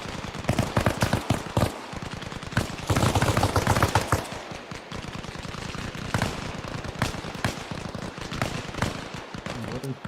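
Sustained rapid gunfire in Arma Reforger combat, dense rattling automatic bursts and single shots firing continuously and close, with voices calling out over the shooting.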